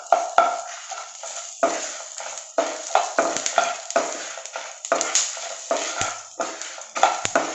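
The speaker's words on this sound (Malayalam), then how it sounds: "കുരുമുളക് ഒന്ന് ചൂടായ ഉടനെ ജീരകം 1 സ്പൂൺ ഇട്ട് കൊടുക്കാം." Whole black pepper and cumin seeds fry in a hot pan for a mushroom Chettinad masala: a steady close sizzle punctuated by regular scraping, tapping strokes of a spoon stirring, with no talking.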